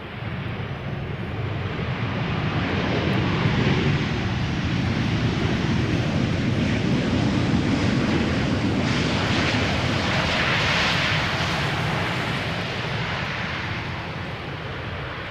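An airliner arriving at Amsterdam Schiphol Airport rumbles overhead in a broad, steady jet roar that swells and slowly fades, with no voices.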